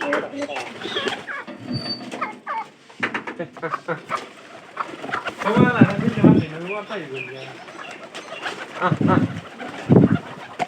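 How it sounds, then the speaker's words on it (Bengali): Pigeons coo in low, throaty bursts, one of them paired with a lame pigeon. Voices talk through most of the clip, and the cooing swells loudest around the middle and again near the end. "ন্যাংরা কবুতরের সাথে জোড়া দিলাম এটার আর আমাদের কবুতর"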